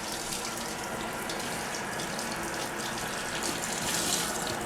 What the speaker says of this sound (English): So I rinse my rag first.